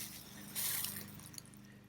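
Water pours down a hammock drip line outdoors, making a soft, close splashing and trickling burst that fades into faint dripping over a low background hum.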